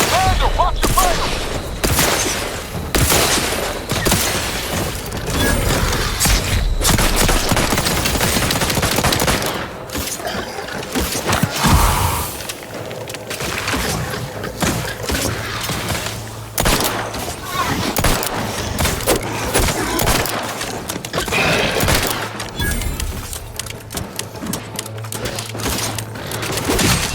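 Rapid gunfire from the video game Outer Worlds 2, dense bursts of automatic shots and booms layered with in-game voices and combat noise, loud and continuous.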